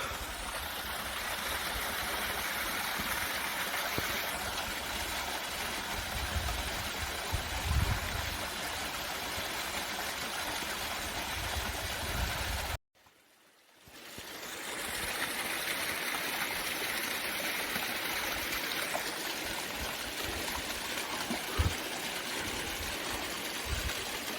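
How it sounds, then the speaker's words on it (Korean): A mountain stream flows through a spring valley at Bukhansan's Uidong area, a steady broadband rush of water that runs continuously and briefly cuts out midway before resuming, with no talking. "물소리 좀 감상하시죠."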